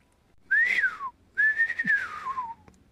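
Two clear whistled phrases, each sliding high then dropping, mimic a bulbul's shrill call, close and solo.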